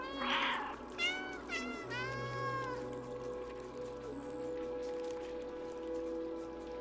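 A person imitates cat meows at the screen while playing the cat video game Stray, giving a series of rising and falling meows and trills over quiet in-game ambience.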